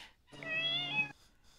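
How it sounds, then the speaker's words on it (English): A cat gives a single clear, drawn-out meow, close and fairly loud, rising then falling in pitch before ending abruptly in near silence. "it sounded like an actual pussy cat"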